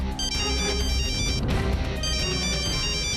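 A telephone ringtone plays in a domestic TV drama scene, a repeating electronic melody that rings steadily with a brief pause mid-way before resuming, fairly close and without talk.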